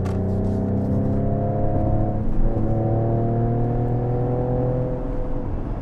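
Mercedes-AMG GLE 53 Coupe, roughly 400 horsepower, pulling hard in Sport Plus mode, a steady droning engine note with rising harmonics, heard from inside the cabin and continuing without pause.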